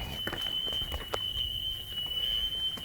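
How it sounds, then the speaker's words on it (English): A smoke detector with low batteries is going off indoors in a house, a shrill, steady high-pitched tone sounding throughout, with faint footsteps and knocks beneath. "Now here the smoke detector's going off."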